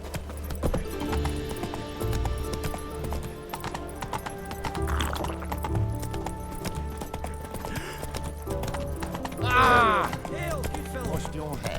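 A horse gallops in The Witcher 3: Wild Hunt, rhythmic hoofbeats pounding over game music and ambience, with a whinny rising near the end and voices from the game scene.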